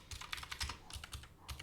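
Several quick bursts of keystrokes on a computer keyboard, close and fairly quiet, tapping in short uneven clusters with brief pauses between them and no voices.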